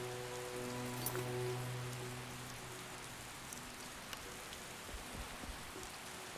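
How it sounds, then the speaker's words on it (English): Steady rainfall in the video game The Witcher, a soft continuous patter on surfaces with a low droning music tone underneath and a few faint isolated drips. "It's raining, people"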